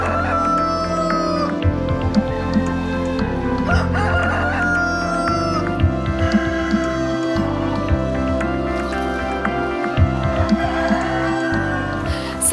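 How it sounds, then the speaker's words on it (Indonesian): Free-range village chickens at a resident's farm in the Indonesian countryside, with roosters crowing repeatedly and a flock clucking nearby over a steady low background hum, with no talk. "saat ini saya sedang berada di lokasi peternakan ayam kampung milik salah seorang warga"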